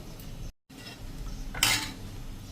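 A spoon scrapes and clinks against a pot as thick kadhi is stirred, with a brief gap of silence and a brighter scrape near the end.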